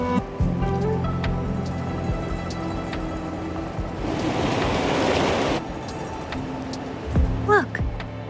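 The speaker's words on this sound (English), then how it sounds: "Look, the water is going down." Water drains away in a Wuthering Waves game scene as a broad rushing wash that swells in the middle and then cuts off, over a continuous low musical hum and tones.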